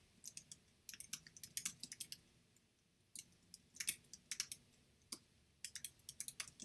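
Fingers typing on a computer keyboard, quiet close clicking in quick uneven bursts separated by short pauses.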